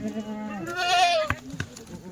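A Kathiawadi goat gives a single drawn-out, wavering bleat at close range, followed by a couple of short knocks and faint rustling.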